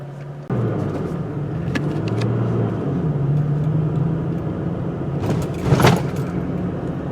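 2021 Toyota Tacoma TRD Pro with six-speed manual, TRD suspension, big tires and an empty bed crawling over rough terrain; a steady engine rumble and cabin whir run throughout, with a brief jolt of rattling thumps near the end.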